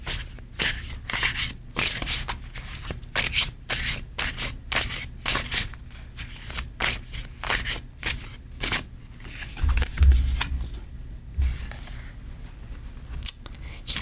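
Tarot cards are shuffled by hand in quick, repeated riffles and slaps, a near and crisp rhythm running for about fourteen seconds, with a dull thump partway through.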